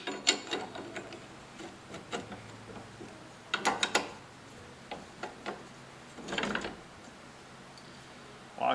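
Small metallic clicks, ratchet turns and scrapes sound up close as nuts and washers are fitted and tightened onto the luggage rack clamps of a 1931 Ford Model A. The bursts are irregular, with quiet pauses between them.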